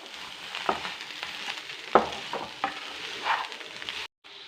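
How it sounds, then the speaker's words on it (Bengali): Spoon stirring coconut paste into a vegetable curry in a pan, with soft scraping strokes at irregular intervals over a low steady sizzle, close and fairly quiet. "এবার ভালো করে মাখিয়ে নেবো।"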